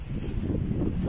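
Steady low wind rumbles and buffets against the microphone outdoors in a park in October, a continuous close blustery noise with no talk.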